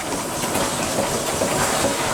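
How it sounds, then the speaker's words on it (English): Several old stationary engines, among them a Taylor Iron Works engine, run together in a loud, dense, steady chugging mass with no gaps and no talking. "We got 5 engines running."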